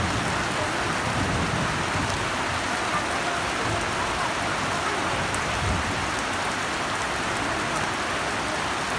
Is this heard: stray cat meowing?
no